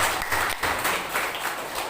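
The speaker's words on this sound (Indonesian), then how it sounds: "yuk tepuk tangan" A church congregation claps, a thick, steady patter of many hands that swells and dips slightly, moderately loud, with no talk over it.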